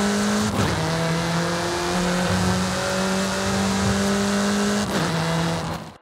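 Race car engine in Forza Horizon 5 on a Mexico road, a loud close high-revving drone that climbs through gears with a shift break near the start and another near the end, plus faint tire squeal.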